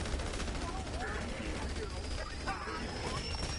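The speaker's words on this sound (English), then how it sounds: "So now I'm just gonna tap my minigun." Sustained heavy gunfire from a minigun wielded by Montana, the tank hero in Battleborn, a dense rattling barrage that keeps going without a break, with a voice heard faintly underneath.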